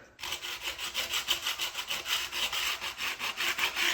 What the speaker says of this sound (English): So I'm going to sand that off a little bit there.